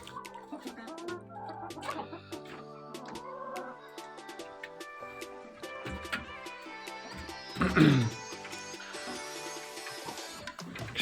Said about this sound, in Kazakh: кішкене жұмыртқаға үйреткенше мына жас тауықтарды осының ішінде тұратын болады